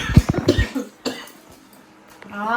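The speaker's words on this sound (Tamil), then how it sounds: "அவனும் ஒரு வாரமா இருமல் தான்." A burst of several quick, harsh coughs up close, then quieter rough breathing and a throat noise, ending with a voiced strained sound as the cougher recovers.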